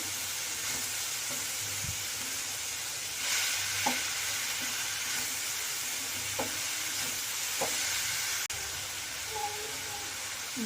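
Cabbage momo filling fries in a pan with a steady sizzle while a utensil stirs it, giving occasional scraping knocks over a constant hiss.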